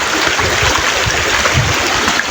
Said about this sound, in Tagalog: malakas yung agos ng tubig